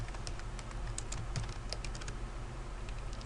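Typing a name on a computer keyboard: soft, quick key clicks in an uneven rhythm, close but faint over a low background hum, with no talking.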